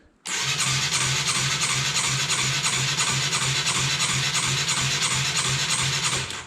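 A junkyard Honda CBR 125 motorcycle engine runs at full throttle, a steady, loud, buzzing roar held for several seconds with a fast, even pulse and no voices.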